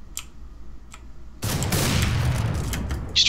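Rapid gunfire from a Desert Eagle pistol in a one-on-one video game match, with a few isolated sharp cracks followed by a dense, sustained burst of shots and clatter.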